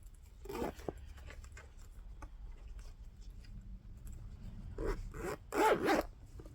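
A Vera Bradley bag zipper is pulled in short, raspy bursts, quiet at first and then a couple of louder, quicker zips near the end.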